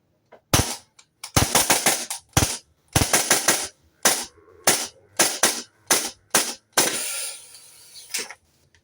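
An airsoft rifle fires BBs in a string of loud, sharp, close bursts, with short rapid volleys separated by brief pauses, ending in a longer rattling run of shots.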